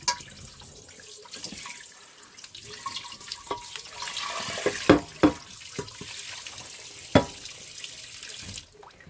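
Warm tap water runs into a sink while a burnt stainless steel pot is rinsed, a steady splashing stream broken by several sharp metallic knocks and clanks of the pot, close and without talk.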